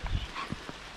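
A dog gives a single short bark near the start outdoors on a bushcraft camp outing, followed by a few faint thuds and rustles over a low outdoor background.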